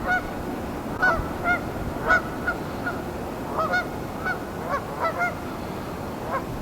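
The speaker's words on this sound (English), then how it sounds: "there's thousands of geese." Thousands of geese honking outdoors on open water, a steady chorus of repeated calls from a large flock at moderate distance over a broad wash of background noise, with several louder honks rising above the rest.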